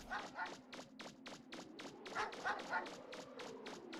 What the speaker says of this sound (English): This is the deserted nightmare town where all the dogs try to kill you.